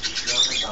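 A parrot squawks in a pet shop, a short harsh burst that is close and fairly loud, with a person's voice mixed in.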